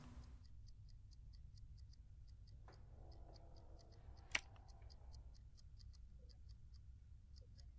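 Steady ticking timer in the horror game Evil Nun, regular faint clicks running through the whole stretch over low background hum, with a brief scraping rustle and one sharp tick midway.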